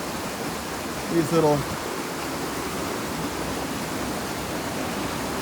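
Creek water at Spoon Creek Falls in Washington State rushes steadily over rock, a dense, constant roar filling the whole stretch, with a brief spoken phrase near the start.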